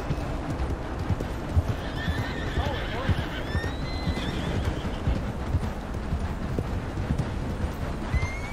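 Hooves clip-clop steadily throughout as a horse gallops in a Wild West video game, with a couple of short whinnies and neighs rising above the rhythm, while a voice talks faintly underneath.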